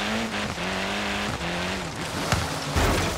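Ken Block's Ford rally car in the Forza Horizon 3 racing game drives hard, its engine droning with rising and falling revs while tyres squeal and skid in a few short bursts.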